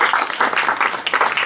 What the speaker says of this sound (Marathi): टाळ्यांचा गजर व्हायला पाहिजे